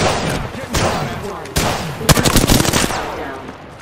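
Bursts of automatic gunfire in Apex Legends, rapid overlapping shots with sharp cracks near the middle and end, loud and close in a chaotic firefight.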